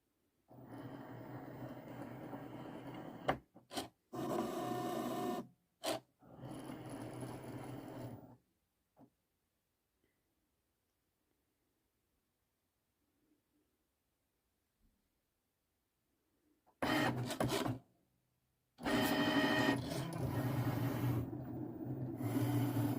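A Cricut Maker cutting machine running in bursts, with loud close motor whirring and buzzing interrupted by stops, a long silent pause, then the motor starting up again.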